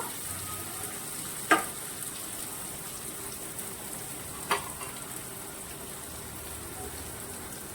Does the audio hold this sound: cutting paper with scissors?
no